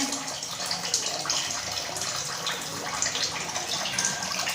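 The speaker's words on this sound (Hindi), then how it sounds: "ऐसे दबा दबा के निचोड़ लेने।" Washed bitter gourds being squeezed by hand to wring out water during home cooking, giving a steady, close wet splashing and dripping that runs continuously throughout without any talk.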